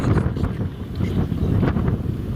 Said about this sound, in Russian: Сильный ветер, вообще слышно ли нас, что мы говорим?